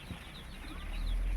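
Many domestic ducklings, about 500 from a duck hatchery, peep in a faint, scattered chorus of high chirps, with low rumbling noise rising underneath.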